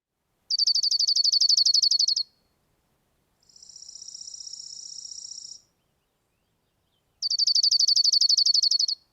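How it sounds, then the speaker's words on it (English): Recorded bird song built on single-note trills: two loud, rapid high trills of about two seconds each frame a softer, steadier high-pitched trill between them, all clear and alone against silence. "a lot of birds do this like kind of single note trill"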